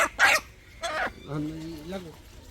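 A large chicken of about four and a half kilos clucks and squawks in a few short bursts, fairly close, with a person's voice mixed in.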